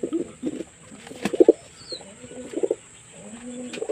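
Pigeons coo in a breeding coop of eight compartments holding nesting pairs with eggs, giving several short, throaty coos in irregular bursts, close and moderately loud against a quiet background.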